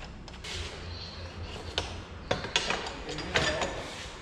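Wheel bolts and a rim coming off during a tyre change, heard as scattered metallic clanks, ratcheting and dull thuds over a low background rumble, close by with no talk.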